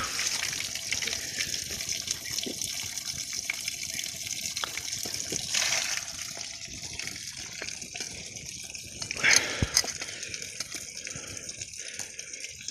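Ice-cold water runs steadily from a tap near a shrine, a continuous close splashing gush with a few brief louder bursts partway through.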